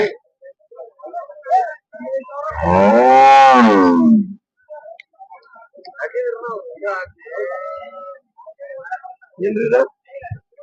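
A single long, loud moo from cattle at the Gadag livestock market rings out close by, followed by scattered voices and market chatter.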